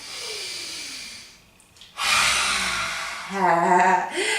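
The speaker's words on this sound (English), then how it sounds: "Deep breath in. Exhale." A person breathes deeply during a heart-opening yoga flow, first with a long, airy exhale, then a short pause. A strong inhale follows, ending in a slightly voiced, breathy sigh.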